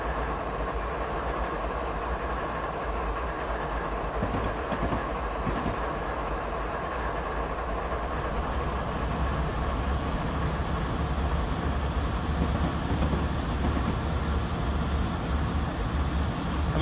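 Two BNSF ES44DC diesel locomotives, 8,800 horsepower in total, run on Stevens Pass in Train Simulator 2016. They give a continuous low engine drone with faint rail clatter, steady and unbroken, with no voices.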